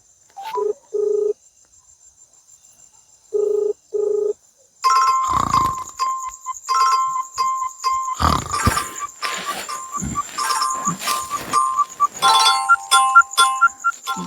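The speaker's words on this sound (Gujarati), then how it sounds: "અડધી રાતે કેમ ફોન કરતી છે" Mobile phone ringtone in a rural village at night, two short beeping bursts at first, then a louder melodic electronic ringtone playing on continuously for several seconds.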